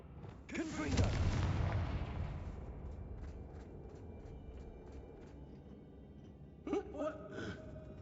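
A Confringo fire spell in the Hogwarts Legacy video game bursts with a booming blast followed by a rumbling decay and scattered crackles, then a second smaller burst near the end.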